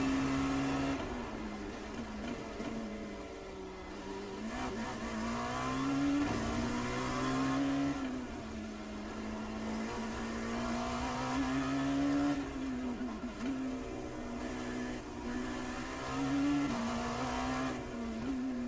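An LMP2 prototype race car engine in iRacing drones loudly and continuously, its pitch rising and falling through gear changes as the car laps the Belle Isle street circuit.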